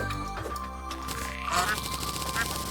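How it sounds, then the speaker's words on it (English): A duck quacks in the video game Terraria, with short nasal calls heard over the game's background music. "Quack."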